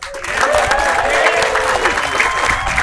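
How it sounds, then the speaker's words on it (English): Audience applause fills a graduation ceremony at Galena High School, a steady, dense clapping sustained throughout with some crowd murmur mixed in. "Give them all a round of applause,"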